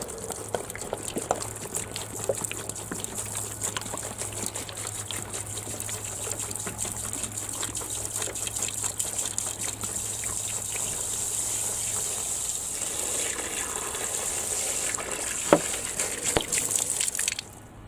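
Water running steadily from a hose or tap into a bucket outdoors in a yard, a continuous hissing gush with a low hum underneath for most of the clip, fairly close and alone without talk.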